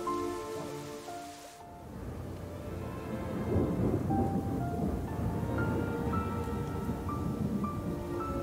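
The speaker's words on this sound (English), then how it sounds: "In the middle of a storm." Thunderstorm in the video game Syberia: The World Before: a deep rolling thunder rumble opens, then gives way to steady, dense rain pattering on surfaces for the rest of the stretch.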